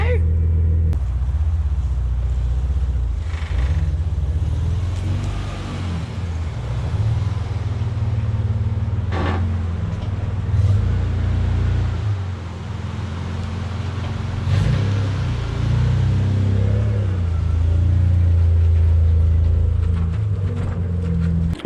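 An LS1 V8 in a Nissan GU Patrol runs after sitting unstarted for months, a deep steady idle rumble close by with a few blips of revving, while someone talks over it.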